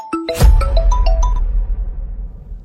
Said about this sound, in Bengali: দেখ, তোর বাপের ফোন চলে এসছে।